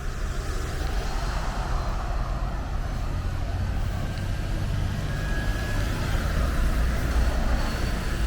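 A blue Lynx city bus passes along International Drive in Orlando, its engine giving a steady, broad roadside rumble amid continuous traffic noise, with no talking.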